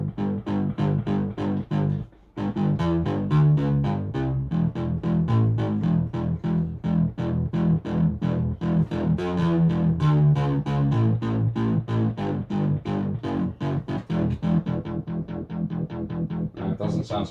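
Distorted synth stabs from a Novation Circuit Tracks, played as a rapid rhythmic pattern of short, punchy, gritty notes with a changing pitch line, loud and upfront with one brief gap near the start.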